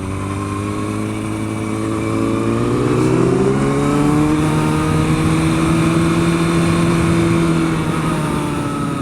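A motorcycle on a race track revs up, eases off under braking, then climbs again in pitch, loud and close, with steady wind rush throughout.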